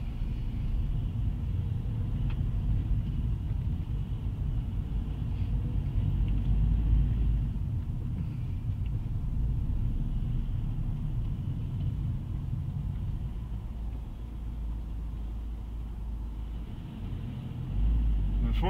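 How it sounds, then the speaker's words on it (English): A car sits in slow, congested road traffic on a diversion route near Larbert, giving a steady low engine and road rumble heard from inside, with no clear talk. "you are just going to have to sit and bear with me as we sit in all this traffic, misplaced traffic"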